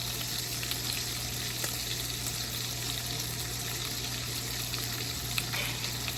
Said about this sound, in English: our bacon is fried